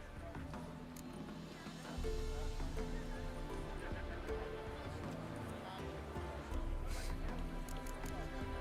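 A horse in The Witcher 3 game whinnies in the distance, faint and soft over a low bed of ambient sound, with quiet hoof-like thuds beneath it.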